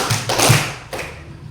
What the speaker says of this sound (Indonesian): Tepuk tangan 2.